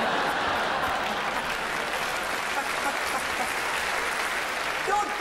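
Comedy festival gala crowd in Melbourne breaks into steady, dense applause that holds at full volume for about five seconds, a broad wash of clapping from a large audience.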